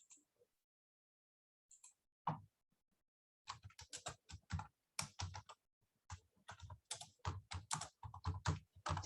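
Typing on a computer keyboard during a video call, with a few isolated clicks first, then bursts of rapid, close keystrokes in uneven runs.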